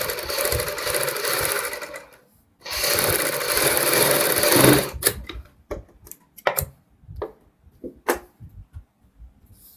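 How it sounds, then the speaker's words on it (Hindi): A sewing machine stitches a kurti neck patch onto buckram in two steady, loud whirring runs, followed by scattered clicks and handling knocks, close up and with no talk. "इसको लगाने के लिए भी हम सबसे पहले नीचे सिलाई लगाएंगे"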